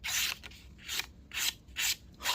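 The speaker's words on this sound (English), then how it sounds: "Let's see what the edge does to some paper." A sharp knife edge, the Petrified Fish PF878 wing knife, slicing through paper in four quick crisp strokes with short pauses between them, close and clear with no talking.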